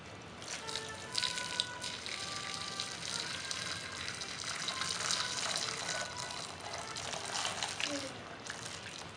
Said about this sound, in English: And then I fill with water.